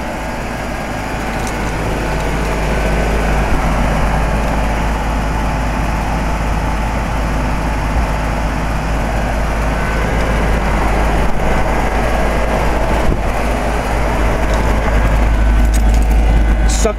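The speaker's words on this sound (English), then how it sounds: "the 2004 Carrier 3-ton heat pump is running in cool mode" A 2004 Carrier 3-ton heat pump running in cool mode outdoors, giving a steady, loud, close hum and whoosh that holds evenly throughout.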